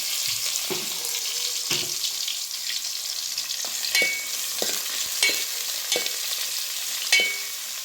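Chopped onion and curry leaves sizzle in hot tempering oil for an okra masala sambar, a loud steady frying hiss broken by repeated scraping stirs and clinks of a spoon against the pan.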